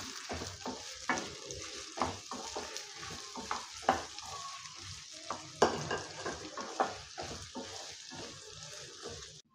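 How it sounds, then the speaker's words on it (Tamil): Sliced onions fry and are stirred in a pan while cooking a mutton roast, giving a steady close sizzle broken by repeated scraping stir strokes, with no voices. "இப்போ வெங்காயம் வதங்கிட்டுருக்கு"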